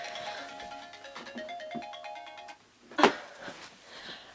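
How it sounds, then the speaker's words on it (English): A mobile phone ringtone plays a bright, repeating melodic pattern of tones, followed by a sharp click and some faint rustling as the phone is handled. "my phone's going off."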